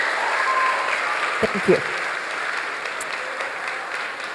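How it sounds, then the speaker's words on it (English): Warm audience applause at a secondary school awards ceremony keeps a steady wash of clapping throughout, while a brief spoken thanks and a few close thumps and knocks cut through near the middle. "Please join me in giving her a warm round of applause for all their contributions this year."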